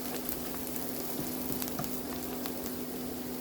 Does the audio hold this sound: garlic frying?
yes